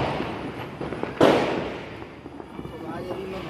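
A single sharp firecracker bang bursts out partway through during Diwali, close and loud, over a noisy background with a voice talking around it.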